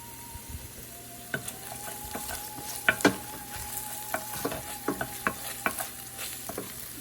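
A spoon stirs a chili mixture frying in a pan for Peruvian aji de gallina, with a steady sizzle under repeated scraping strokes and clinks against the pan, close and fairly loud.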